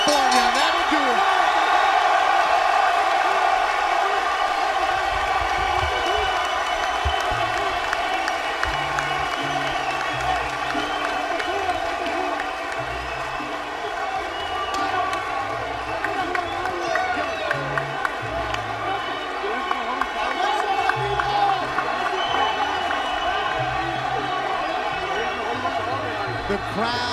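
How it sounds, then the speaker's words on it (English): A boxing arena crowd in Carson, California cheers and applauds steadily after the final round of the Vargas vs. Salido fight, a dense sustained roar with whoops and claps, while a commentator talks over it. "The crowd still cheering, standing up"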